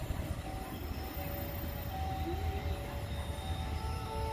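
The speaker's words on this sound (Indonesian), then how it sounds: "kereta api Serbila" The Serbila passenger train rumbles past rice fields at a distance, travelling from Tanjung Balai station to Medan, with steady low clatter and faint high metallic squeal, continuous throughout.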